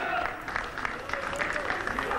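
A crowd applauding Greek politician Alexis Tsipras at a polling station in Kypseli, Athens, on election day, a short burst of scattered, moderately distant clapping with voices murmuring over it.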